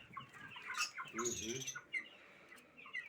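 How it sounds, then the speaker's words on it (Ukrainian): Young broiler chickens cheeping and clucking nearby, a busy scatter of short chirps and calls with no talking. "Ух, такі курчата вже. Це вже курчата."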